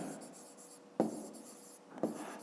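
Pen strokes on paper while writing out a remainder in a fifth-grade maths exercise, a soft continuous scratching with two sharper taps about a second apart, quiet and close.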